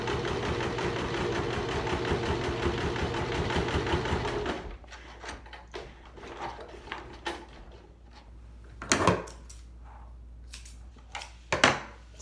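A sewing machine sews a fabric mask in a fast, steady mechanical whir for several seconds, then stops, followed by quieter handling clicks and a few rustling knocks up close, with no talking.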